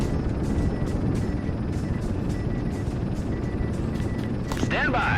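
A steady propeller-plane drone hums throughout as an aircraft approaches to land on a carrier deck in Aircraft Carrier Survival, with a rising whoosh swelling near the end.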